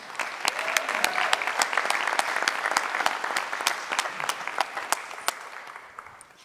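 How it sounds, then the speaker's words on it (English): A business pitch competition audience claps in a dense, steady round of applause, with sharp individual claps standing out near the front for the whole stretch before it starts to thin at the end. "one more round of applause for Lucretia"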